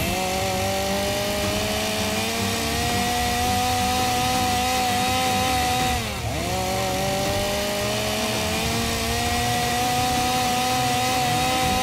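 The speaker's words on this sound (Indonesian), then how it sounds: "Soalnya bunyi gerinda pemotongnya dia tuh keras banget, bro." A loud cutting grinder or chainsaw runs steadily in an abandoned warehouse, a continuous high-pitched whining drone with a brief dip in pitch midway, as if the blade bogs under load, then it resumes at full speed.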